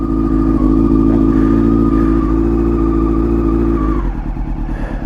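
A motorcycle engine idling on a cold morning start, a loud, close, steady throb with a high whine that drops and settles into a lumpier, pulsing idle near the end.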